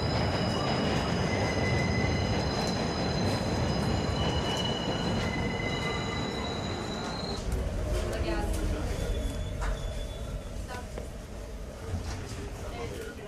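Brooklyn subway train running, a steady rumbling roll with repeated high metallic wheel squeals and whines, close and loud, fading slightly toward the end.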